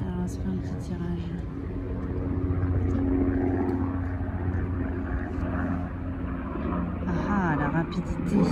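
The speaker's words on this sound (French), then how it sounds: "il y a un bruit d'hélicoptère" A helicopter passes over a spring forest, its steady engine and rotor drone filling the background throughout while a person talks over it.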